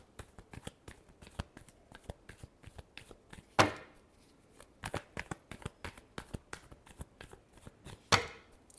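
Tarot cards are shuffled by hand in quick soft riffling flicks, with two louder bridge-style cascades standing out amid the steady patter, close and otherwise quiet.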